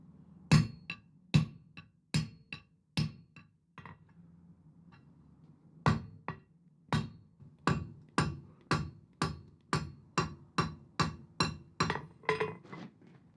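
Sharp metallic hammer blows ring out as the hot end of a steel bar is upset on an anvil while forging an octopus sculpture, first a slow run of strikes, a pause, then a steady faster series of ringing hits, close and clear.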